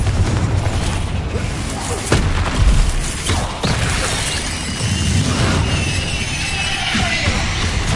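A Confringo spell blast in Hogwarts Legacy on PlayStation 5, a loud, dense burst with shattering crackles and booming rumble layered over continuous game noise and mechanical clatter.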